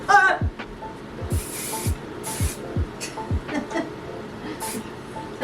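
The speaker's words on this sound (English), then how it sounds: "Now we're gonna spray." An aerosol spray gives several short, loud hissing bursts at irregular intervals in a bedroom while a person is styling hair, with faint voices and movement noise in between.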